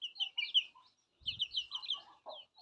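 Laying hens in a country chicken shed give soft, repeated clucks and short chirpy calls in two close bursts, with a brief low rustle between them and no talk.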